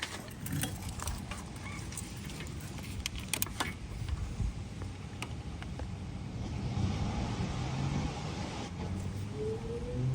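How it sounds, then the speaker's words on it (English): A cutoff wheel grinds down a spinning part from a trashed Yamaha R6 in a makeshift lathe setup, giving a steady, close, harsh whirring grind with scattered clicks and rattles that grows slightly louder toward the end. "I'm using a cutoff wheel just because I feel like I can control that better"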